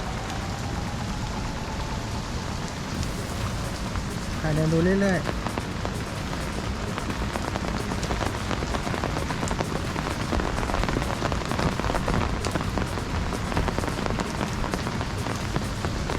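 Steady rain pours down at a hotel in Khao Lak, hissing and pattering on surfaces, with a person speaking briefly and a short bird-like chirp in the middle.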